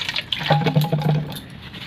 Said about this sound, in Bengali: একটা পাত্রে জল নেব অল্প করে